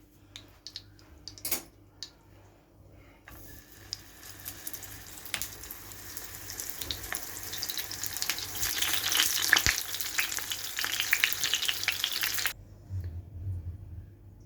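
Pieces of eggplant for karnıyarık sizzle and crackle in hot oil, the frying growing steadily louder before cutting off near the end.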